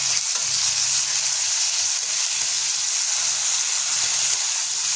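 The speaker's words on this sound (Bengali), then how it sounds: "টমেটো কুচি যোগ করেছি, তাই আমরা কিছুক্ষণ এটাকে নাড়িয়ে নেব।" Chopped tomato, about 100 grams, fries in a kadai and is stirred, giving a steady, close sizzle with broad hiss throughout and faint scraping stir strokes underneath. No one talks.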